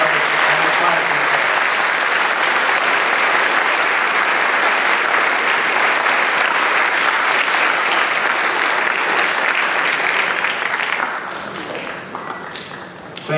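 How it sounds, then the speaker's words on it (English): A school Veterans Day assembly crowd claps loudly and steadily for the choir and orchestra, a dense sustained round of applause that tapers off near the end. "another round of applause for our choir, orchestra, hotel, and choir people"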